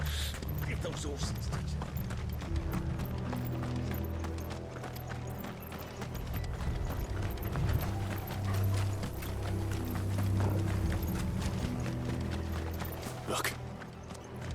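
Horses' hooves in the Final Fantasy XVI video game, a continuous rhythmic clip-clop of galloping horses with rumbling movement, steady and fairly loud throughout under occasional voices.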